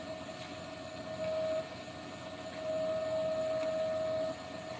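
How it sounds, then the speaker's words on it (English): An angle grinder grinds down a weld with a steady, close, high whining drone. It swells louder twice as pressure on the metal changes, with no talk over it. "I'll grind it down."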